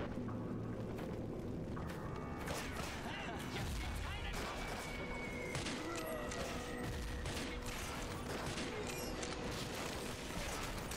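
Rapid weapon gunfire from a first-person shooter, NecroVision, rattling in dense continuous bursts with crashes and explosions mixed in, loud and close throughout while someone talks over it.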